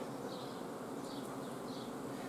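Honey bees drone steadily inside an open hive whose frames are being inspected, among them drones gathered along the frame edges. The humming is a continuous close buzz with no voices.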